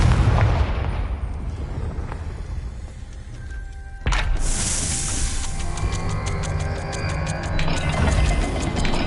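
A Confringo fire spell from the game Hogwarts Legacy: a sudden loud blast midway through, followed by crackling, ringing bursts over a rumbling game backdrop.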